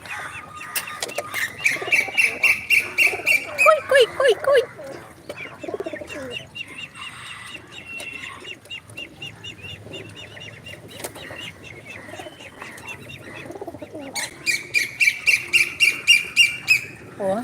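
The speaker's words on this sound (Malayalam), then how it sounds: "പറവ പ്രാവുകളുണ്ട്" Pigeons at a farm, with repeated bursts of wing flapping and rhythmic calls close by, loudest at the start and again near the end, and quieter chatter between.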